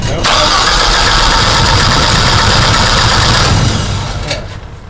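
A propane-fueled generator engine cranks and catches, running loud and rough for several seconds before faltering and dying away near the end, with a voice faintly present.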